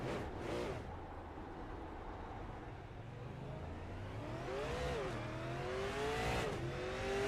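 Race car engine in a sim racing game at North Wilkesboro Speedway, throttle blipping and revving with rising and falling pitch sweeps, steady loud engine drone throughout with a couple of sharp surges near the end.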